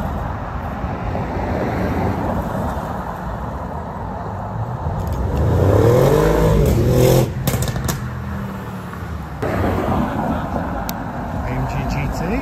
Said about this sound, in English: GT2! Wow! Okay, that's cool. 997 GT2, very cool.